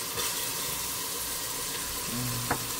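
Garlic drops into a pan of caramelized sugar and fries with a soft, even sizzle that runs steadily throughout, heard up close, with a faint clink near the end.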